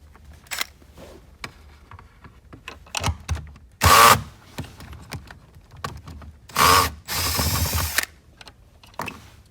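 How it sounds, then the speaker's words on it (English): A power drill whirs in several short, loud bursts removing 10mm bolts from a Chevrolet Spark's airbag control module, with a longer burst near the end, separated by quieter clicks and handling noise. "I'm going to use the power drill"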